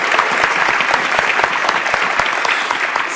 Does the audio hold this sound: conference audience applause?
yes